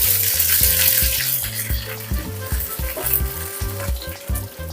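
Curry leaves and onions sizzling in hot oil on high heat while prawns tawa fry is made, a steady loud crackle with stirring clatter and knocks running through, no talking.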